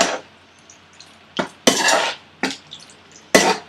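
Bacon jalfrezi stirred in a pan with spices, several distinct scraping and clattering bursts of a utensil against the pan, close and fairly loud, separated by short quiet gaps.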